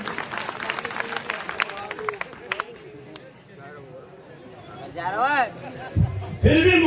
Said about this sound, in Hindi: ताली बजा दो भैया